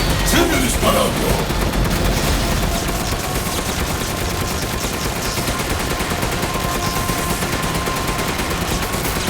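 Dense, sustained gunfire in the Resident Evil Village boss fight against Heisenberg, with loud overlapping shots and blasts pounding without a break beneath the game's battle noise.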